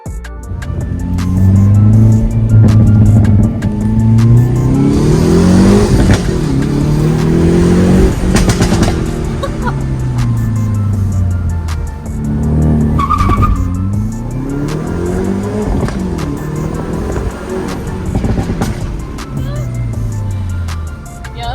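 A 2021 Hyundai Veloster N, front-wheel drive, launches hard with its engine revving through rising gear pulls while the tires skid and squeal, loud and close throughout.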